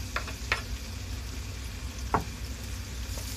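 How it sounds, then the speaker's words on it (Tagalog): Ham sizzles steadily in hot oil in a pan, a continuous soft frying hiss with a few faint knocks from stirring, with no talking. "Igisa-gisa na ho natin si ham."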